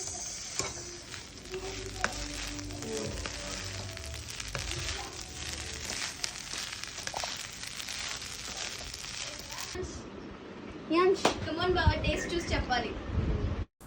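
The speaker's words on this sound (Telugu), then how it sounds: "ఫ్రైడ్ రైస్ బాగా కలపండి" Schezwan egg fried rice being stirred and fried in a pan, with a steady sizzle and scraping of the spatula running throughout, loud and close, while voices talk over it.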